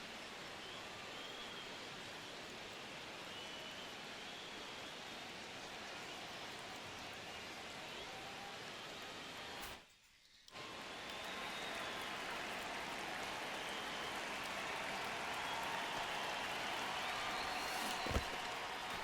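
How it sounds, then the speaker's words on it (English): Steady rain hisses down over a ballpark in MLB The Show, a constant wash of noise that drops out briefly, then returns slightly louder. "It really feels like we might be running out of time before a rain delay is called. This rain is not letting up."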